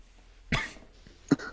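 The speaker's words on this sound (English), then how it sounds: "I can see you coughing on the screen." Two short coughs, one sharp and then a softer one about a second later, close by with no talk.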